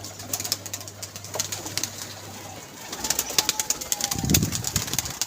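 Pigeons in a pigeon loft give low, soft coos, with one fuller burst of cooing later on, over a steady background hum and scattered clicks and rustles.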